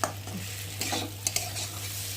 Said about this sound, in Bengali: মশলাটা ভালোভাবে কষিয়ে নেবো, যতক্ষণ অবধি একটা মশলা ভাজা ভাজা গন্ধ দেবে।